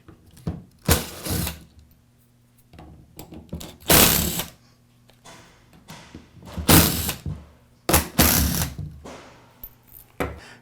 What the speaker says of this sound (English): Next, I'll remove the 4 screws that secure the gearbox to the housing.